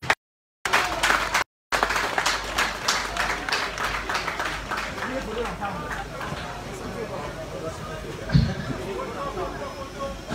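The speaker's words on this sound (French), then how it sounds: "Sous vos applaudissements, s'il vous plaît." Audience applause at a charity concert, a broad wash of many hands clapping that carries steadily, with brief dropouts near the start and crowd noise mixed in.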